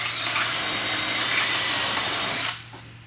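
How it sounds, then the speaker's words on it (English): A power drill pre-drilling a screw hole whines steadily at high speed for a couple of seconds, close and loud, then winds down and stops. "I'm going to pre-drill this hole as well."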